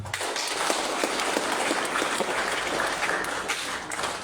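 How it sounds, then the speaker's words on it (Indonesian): A crowd applauds continuously at the opening of a school sports event, dense steady clapping at close range from start to finish. "tepuk tangan."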